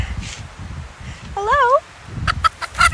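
Backyard chickens cluck and give short calls in fall weather, close by and fairly loud, with a rising warbling call in the middle and a person's voice talking at times over the flock.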